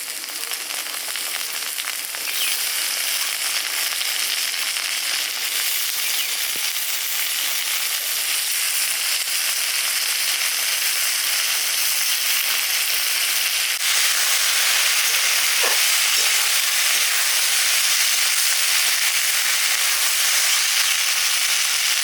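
Potatoes fry in a pan of mustard oil with chopped onion, a constant loud crackling sizzle that carries on unbroken, with faint occasional clicks beneath the hiss.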